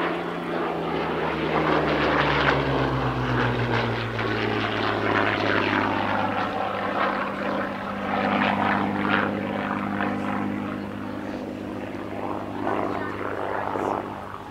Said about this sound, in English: first up, Hurricane Mark 1 P3717, which was a very last-minute addition to the flying programme